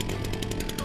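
Logosol Big Mill Timberjig chainsaw mill sawing through a log, a loud, steady engine drone with a rhythmic pulsing of the chain cut, close and continuous with no talk.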